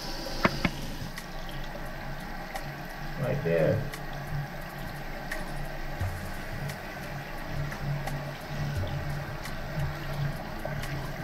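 Water running over a Nokia XR20 phone during a water-resistance test: a continuous close splashing and trickling stream, steady throughout, with brief talk in the background.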